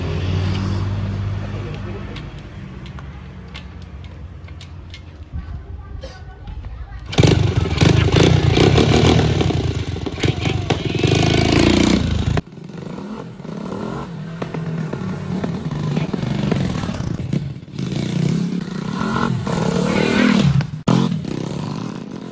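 A new motorcycle engine runs and revs loudly under casual talk, getting louder and rougher midway, then idling on with continued chatter.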